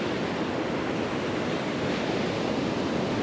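Ocean surf washing continuously onto a beach with strong current, a dense, steady roar close to the microphone with some wind noise and no voices.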